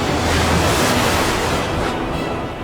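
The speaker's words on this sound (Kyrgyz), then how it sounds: "Мен билем, бул коркунучтуу бороон мен үчүн болду." Stormy sea waves in an animated Bible story about Jonah: a loud, continuous roar of surf and wind with no breaks, steady from start to finish.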